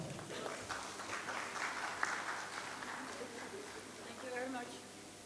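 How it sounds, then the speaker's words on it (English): Warm audience applause at the inauguration of an international conference, a steady patter of clapping from the crowd that rises and fades over a few seconds, with voices audible through it. "With warm welcome and applause, I invite to the stage Ms. Eva Roth."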